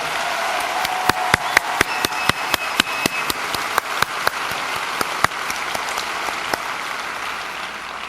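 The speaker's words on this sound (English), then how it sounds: "Let's give our young people a big round of applause." Applause at a school district convocation for young performers, with a sparse patter of hands under a run of sharp, distinct claps ringing out close by, fairly even in level throughout.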